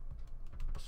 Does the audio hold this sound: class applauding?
no